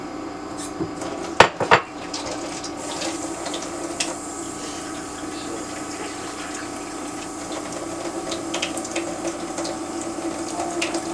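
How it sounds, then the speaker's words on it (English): Water trickles and splashes steadily into a dish, with a couple of sharp clinks of cookware early on and a faint background hum. "I am going to add a little bit more water to it"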